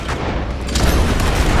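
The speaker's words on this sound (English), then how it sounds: "Just keep shooting." Loud, dense gunfire in the western video game Red Dead Redemption 2, booming shots and rumbling reports blending into a continuous roar during a shootout near a mansion.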